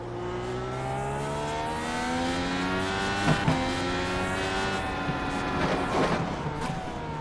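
Indycar engine in the iRacing sim at Sonoma, a loud continuous rising and falling rev with stepped gear changes and brief tire squeal, alone without talk.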